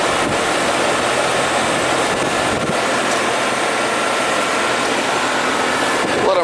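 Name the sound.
Trane air conditioning units running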